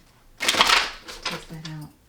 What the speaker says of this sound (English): I'll do one more full shuffle.